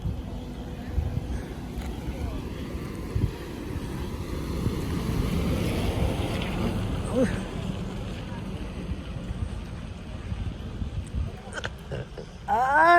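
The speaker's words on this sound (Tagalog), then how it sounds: "Grabing hangin." Strong wind in foggy Baguio roars steadily against the microphone, rumbling and gusting throughout, with faint voices now and then.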